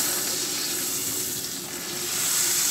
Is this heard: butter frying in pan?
yes